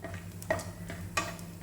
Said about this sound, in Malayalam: അതിലേക്ക് അണ്ടിപ്പരിപ്പ് നുറുക്കിയത് ഇട്ട് ഒന്ന് വറുത്തെടുക്കണം.